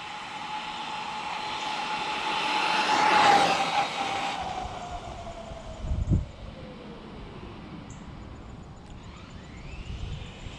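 RC car running on a LiPo battery pack at full throttle outdoors, a high whining motor sweep that swells near and loud around three seconds, then fades with a descending pitch as it pulls away, followed by a brief low thump.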